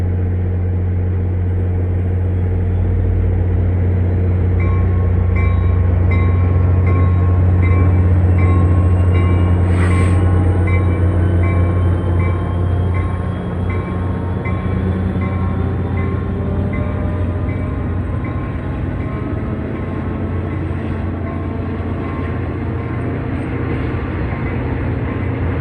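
An NJ Transit GP40FH-2 diesel locomotive, a Jeep cab on an F40 carbody and formerly a Rock Island engine, rolls past with a loud, continuous low rumble and steady engine drone for the full length. A brief high tone rises midway and there is no talk.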